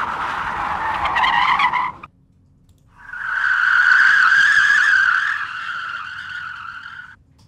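Car tire skid samples previewed one after another: a short harsh squeal that stops abruptly, then after a brief gap a longer sustained screech that fades out, loud and without talk.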